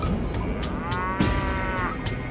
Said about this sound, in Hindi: कुछ दूरी पर उसे भैंस की आवाज आने लगी।